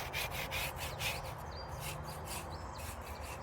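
A plastic tool rubs and scrapes lichen off a gravestone in quick repeated strokes, a faint rhythmic scratching close by over a low outdoor background with birds chirping.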